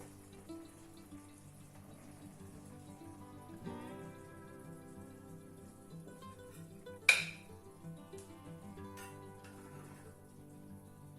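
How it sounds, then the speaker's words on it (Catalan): Plates and cutlery clink softly while salt cod with samfaina is served, with sparse light taps, a faint running-water wash and one sharp louder clatter midway, quiet and without talk. "Doncs ara ja anirem a servir el plat"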